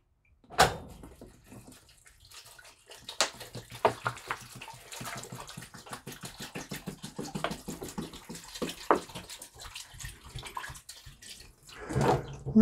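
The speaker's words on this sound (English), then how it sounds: "And pour in our water." Water poured into a pot of carrots and raisins for a one-gallon batch of carrot wine, a splashing, trickling stream with irregular bursts and clatters of the pot, close and fairly loud.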